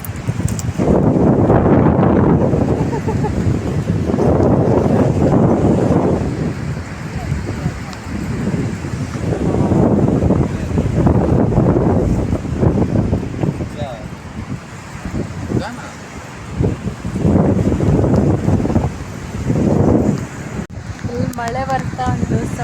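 Strong wind buffets the microphone at a rainy beach, with ocean surf rolling beneath in a continuous loud roar while people talk close by throughout.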